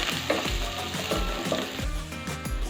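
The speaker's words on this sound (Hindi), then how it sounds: "तो प्याज हल्का सा भून चुका है।" Onions fry in a pan for upma, with a steady sizzle and a rhythmic scrape of a spoon stirring about twice per second, close and quiet with no talk.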